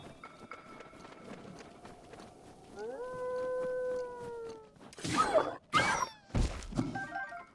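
In Zelda: Breath of the Wild on Master Mode, a wolf-like canine lets out a rising, sustained howl, followed by several heavy thumping impacts and scuffles, moderately loud with no talking.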